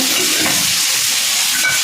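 Omelette frying in a pan on a home stove, a steady close sizzle with faint stirring, no voices.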